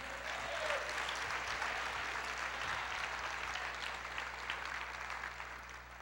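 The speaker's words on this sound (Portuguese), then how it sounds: "Aplauda Ele." A church congregation claps together in sustained, dense applause that carries steadily and evenly through the whole stretch.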